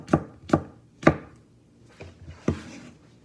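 A knife slices garlic on a cutting board in a few crisp chops, three firm evenly spaced knocks followed by two lighter cuts, close and dry with no talk.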